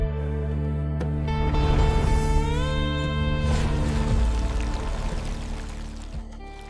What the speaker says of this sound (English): he cried out to Hashem, who opened a rock from which water gushed forth.